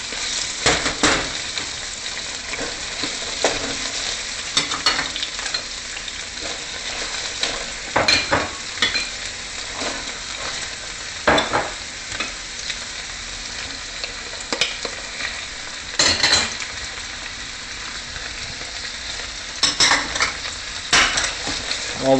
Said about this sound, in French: On va mélanger tout ça parce qu'on veut juste faire suinter les légumes